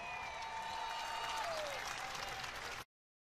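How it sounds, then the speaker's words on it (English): A crowd at the 2024 NCAA rifle championship applauds the most outstanding performer, with dense, steady clapping that fills the room and then cuts off abruptly. "How about another round of applause for your 2024 National Collegiate Most Outstanding Performer in Rifle?"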